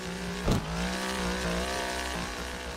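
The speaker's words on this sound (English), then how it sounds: "That rear exhaust on that E36 is so loud" A BMW E36 drift car in a video game roars from its loud rear exhaust, a steady droning engine note with a brief burst near the start, sustained throughout.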